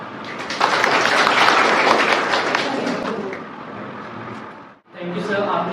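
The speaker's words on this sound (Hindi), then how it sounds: "लेकिन इस बच्चे की मेहनत के लिए तालियां" An audience applauds a student in a burst of loud, dense clapping that swells, fades, briefly drops out, then picks up again near the end.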